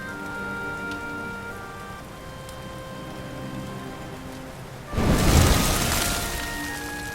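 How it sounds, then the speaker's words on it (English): Steady rain patters throughout in Dragon Quest XI S, then a sudden loud burst of heavier downpour or rumble for about two seconds before easing back. "Looks like the rain's dying down."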